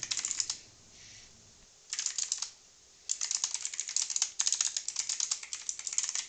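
Quick, clicky keystrokes on a computer keyboard, bursts of rapid typing broken by short pauses, close and crisp with no voice present.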